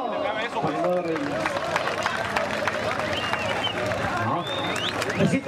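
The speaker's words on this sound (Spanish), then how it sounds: "Fuerte el aplauso." Audience applause mixed with crowd noise and cheering at a town festival queen event in Santa Cruz de Camotlán, Nayarit, sustained throughout under an announcer's voice.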